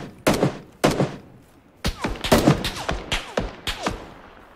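Gunfire in the PUBG video game: sharp shots in short bursts, two isolated cracks followed by a rapid cluster of shots and echoing reports, loud and close, with no talking over them.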